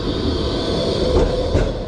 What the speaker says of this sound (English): A tram there actually, talking about trams.